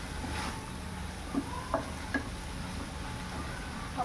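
Cabbage and peas stirred in a pan, a quiet steady sizzle beneath a few soft scraping strokes of a spoon spaced about half a second apart, close by with no voices.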